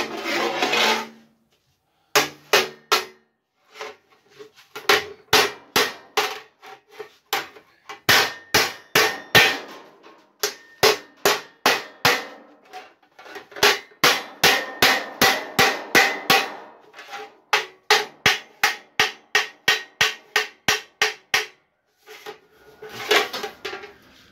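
Repeated clanging hand-hammer strikes on the seam of a 0.8 mm sheet metal pipe, coming in fast irregular runs with brief pauses, loud and near.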